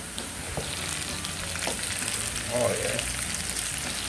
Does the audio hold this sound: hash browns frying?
yes